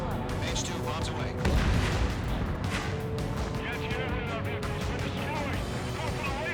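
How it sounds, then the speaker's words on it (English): Bombs exploding in the Ace Combat 7 flight combat game, a dense rolling barrage of deep booms and crackling blasts under steady jet and engine roar, loud and continuous, with voices talking over it. "H2 bombs away."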